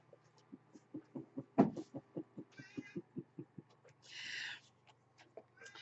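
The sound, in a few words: cat named Peanut meowing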